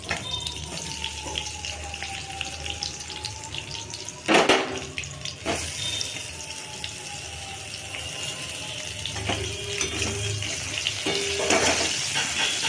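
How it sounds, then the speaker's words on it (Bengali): Eggplant pieces sizzle and crackle steadily in hot oil in a slightly scorched wok, with a couple of sharp clatters of utensils partway through and a persistent hissing fry throughout. "বেগুনগুলোকে হালকা করে ভেজে নেবো"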